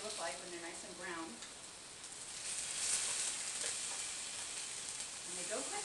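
Apples frying in butter in a pan, a steady soft sizzle and hiss running throughout at moderate level, with a person talking briefly at the start and end over it.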